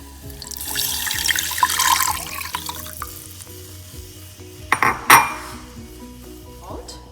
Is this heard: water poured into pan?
yes